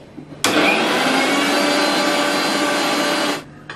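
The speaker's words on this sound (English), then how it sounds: "Grind it." An electric grinder whirs loudly as it grinds a spice masala of pepper powder, garam masala, red chili powder and salt, running as one steady, even burst for about three seconds before cutting off.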